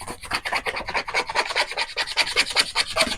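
Tape being rubbed down by hand onto a painted RC car body, a quick rhythmic rasping scrub repeated many times at close range with no voices.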